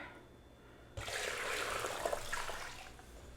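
Water from cooked soba noodles pours out into a sink, a sudden steady rushing splash that starts abruptly and runs on fairly close by, without talk.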